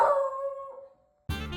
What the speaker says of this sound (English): In fact, that second bark was quite melodious.